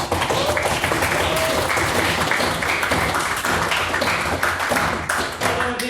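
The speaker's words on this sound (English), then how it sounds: "Please get another round of applause for his maiden speech." A debating society audience gives loud, dense applause after a member's maiden speech in a formal motion debate. The clapping runs continuously throughout, close and even.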